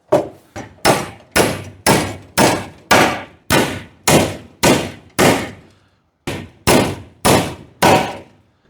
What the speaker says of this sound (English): You don't want to see me doing nailing for the next 15 minutes